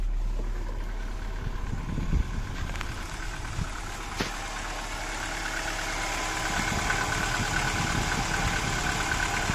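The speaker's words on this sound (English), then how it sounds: "You can barely tell the engine is running" A Mercedes-Benz 190E with an M102 engine converted to full EFI idles quietly with a steady, low hum and no other sounds.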